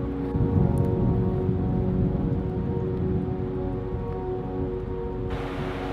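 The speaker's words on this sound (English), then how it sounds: "Another day in Scotland, another day of rain." Rain falls steadily in Scotland, a broad, even hiss that carries on without a break and thins slightly near the end, with no voices over it.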